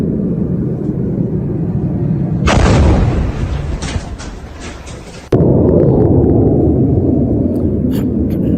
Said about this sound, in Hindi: प्रिंस सुल्तान एयरबेस पर ईरान का ये ड्रोन अटैक है